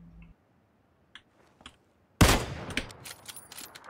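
Kar98k bolt-action rifle fire in PUBG: a loud, sharp shot breaks a near-silent stretch and is followed by clattering, clicky noise that trails off, with no voices.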